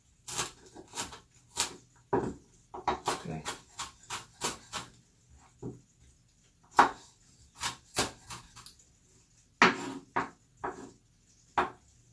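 A knife chops chilli on a cutting board in quick, irregular taps, close by, with short pauses between bursts.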